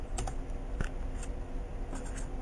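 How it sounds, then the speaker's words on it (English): Quiet clicking of keys on a computer keyboard, a handful of irregular taps close up over faint background hum. "You can either do this by typing it into Google"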